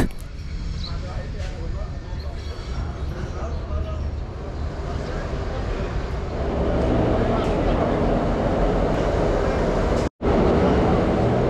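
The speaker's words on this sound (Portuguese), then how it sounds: "Olha lá o nosso trem chegando!" The Posadas–Encarnación international passenger train pulls in between Argentina and Paraguay, a low, growing rumble of rolling wheels and engine that swells louder midway and stays under a person talking.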